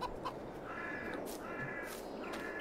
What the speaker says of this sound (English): And the rooster.